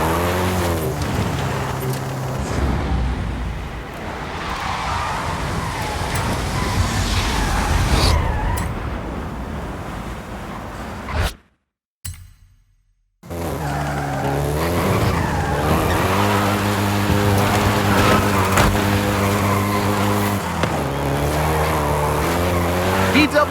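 A Volkswagen Beetle races in Forza Horizon 5, its engine droning loudly and steadily with tire skids and squeals, broken by a brief drop to silence midway, while a voice talks over it.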